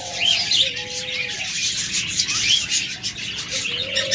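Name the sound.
albino pied budgerigars chirping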